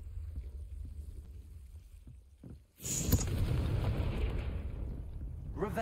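A Confringo blasting spell from the Hogwarts Legacy video game erupts into a loud, sustained rushing explosion that stays near and steady to the end, after a quieter stretch with faint soft sounds.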